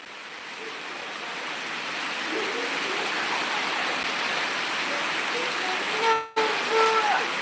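Steady rain hisses across the whole clip as a dense, even wash of noise, with faint tones breaking through near the end.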